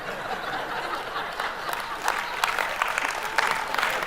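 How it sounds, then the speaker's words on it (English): An audience at a talk breaks into applause mixed with scattered chuckles and chatter, building toward the end, with the claps heard at moderate distance. "That's all the married people who are applauding."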